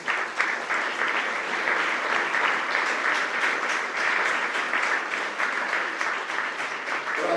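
A crowd applauds a boxing champion at an Italian sports gathering, sustained dense clapping from many people in a hall, loud and even throughout about seven seconds with no voices over it.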